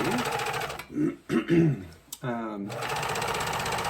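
A serger sewing machine runs in steady bursts while it trims and finishes the edge of a cross-over apron, stopping and starting around a man's speech in the middle.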